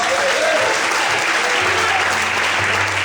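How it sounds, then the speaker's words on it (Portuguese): Church congregation clapping for Jesus during a worship service, loud dense applause throughout with a low musical tone underneath. "Cadê as palmas para Jesus?"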